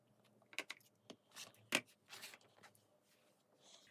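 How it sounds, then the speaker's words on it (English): Rotary cutter or scissors slicing the selvage edges off quilting fabric on a cutting mat, with a handful of short, crisp cuts and rustles spread across a quiet room. "So I'm going to cut the selvages off."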